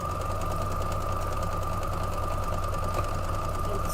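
A sewing machine runs steadily through a straight stitch, joining quilt strip pieces, with a continuous close mechanical whir and no pauses across the whole stretch.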